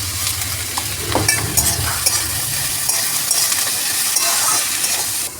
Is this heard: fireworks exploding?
no